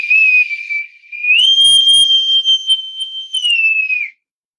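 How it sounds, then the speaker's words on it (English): Bosun's whistle blown alone in a long, loud, piercing sustained note that briefly dips, then rises and holds with a trill before cutting off. "little bosun's whistle, prematurely, but it's a lovely sound"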